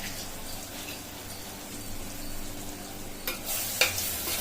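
Prawn curry with coriander and garam masala being stirred in a pan, a soft steady scraping and sizzle that swells into brighter bursts of stirring near the end, with no talk.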